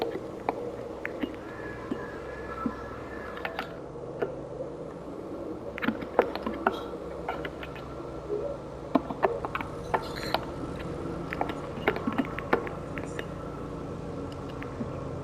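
A mowing tractor engine idles in Farming Simulator 22, a steady low drone with scattered mechanical clicks and knocks over it.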